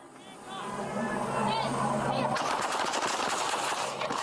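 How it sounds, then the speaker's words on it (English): Police fire rubber bullets at a suspect after a BMW rams officers, a rapid volley of sharp pops starting partway through and continuing, preceded by people talking. "They hit him with the rubber bullets, man."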